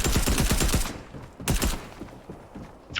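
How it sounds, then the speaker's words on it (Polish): Rapid automatic gunfire in Fortnite, a tight burst of loud, evenly spaced shots, a short pause, then a second shorter burst that trails into scattered distant pops. "Kto w ciebie strzela? Ja strzelam, ja strzelam."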